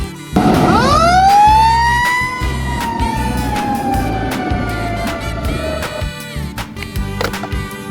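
A toy fire rescue truck's siren starts abruptly and wails in a long, loud rising then slowly falling tone close by, with sharp clicks and knocks around it.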